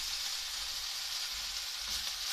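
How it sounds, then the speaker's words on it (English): Chicken frying in a pan over a gas flame turned up to full heat, a steady broadband sizzle running throughout with a faint low rumble beneath and no talk. "I've got the gas on flat out for the chicken."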